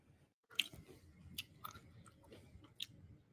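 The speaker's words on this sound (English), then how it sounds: "we have to hear you eat in this too?" A person eating and chewing, with soft close crunches and bites spaced irregularly over a few seconds, quiet and alone without talk.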